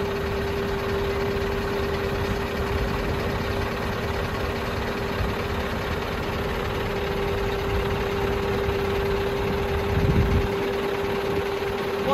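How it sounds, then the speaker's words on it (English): A truck tractor unit idles steadily as it is lowered during trailer coupling and uncoupling, a constant loud diesel drone with a low rumble and faint hum throughout. "I'm going to put my tractor unit down so that my tag axle touches the floor"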